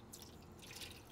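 Water poured into a soup pot while making soup, a soft, steady trickling and splashing that runs the full length, faint and close, with no talk over it.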